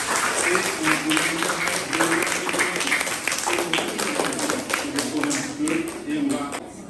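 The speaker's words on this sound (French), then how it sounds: "On peut encore une fois les applaudir" A school audience claps for a quiz team at a 2022 class match, steady applause lasting several seconds with a voice talking over part of it.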